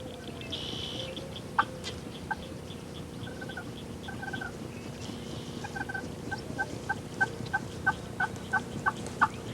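Distant wild turkeys gobble repeatedly over a steady outdoor background, the calls growing more frequent and sharper toward the end.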